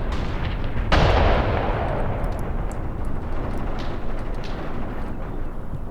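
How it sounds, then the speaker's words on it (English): An incendiary artillery barrage in the war game Graviteam Tactics begins with one sharp, loud blast, then rolls on as a dense, crackling rumble scattered with smaller distant bursts. No voices are heard. "Yeah, there comes the incendiary."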